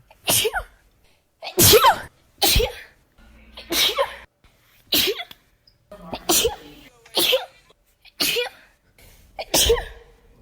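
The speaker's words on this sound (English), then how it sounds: "Are those all the same sneeze, just like repeated?" A string of about ten loud, sharp sneezes, one after another at roughly one-second intervals, each a short explosive burst with brief quiet gaps between them.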